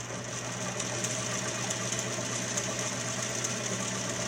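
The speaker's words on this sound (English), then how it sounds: "So let's show it doing a stitch here." A 1951 Singer 221 sewing machine runs a test stitch below full speed, giving a steady, even mechanical whir with a fine rapid ticking, continuous and close.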